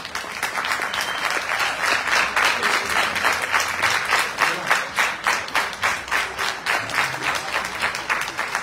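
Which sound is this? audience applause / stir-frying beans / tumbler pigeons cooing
audience applause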